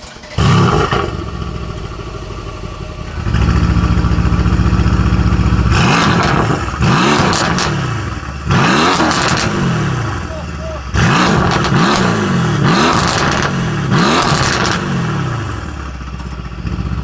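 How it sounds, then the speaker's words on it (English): A turbocharged AMG car engine with downpipes revs hard several times, each rev rising and falling with popping crackles on the throttle lift, loud and close, with brief idle between. "awesome crackles when you rev it and when you downshift"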